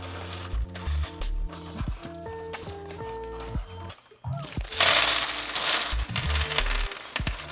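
LEGO Bionicle Tahu Master of Fire packaging is handled and torn open, with plastic pieces clicking and rattling, then a louder burst of crinkling and tearing near the end.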